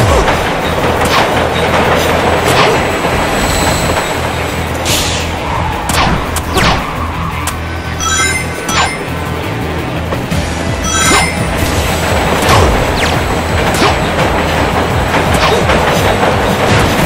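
A train from the Sonic P-06 video game rumbles along with rhythmic clickety-clack and loud mechanical clatter, punctuated by sharp bangs and brief tonal chimes, sustained and close over the whole stretch.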